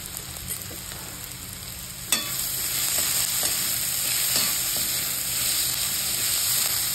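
Onion sautés in a pan with asafoetida and red chilli powder, a continuous loud sizzle broken by a sharp knock and occasional stirring scrapes.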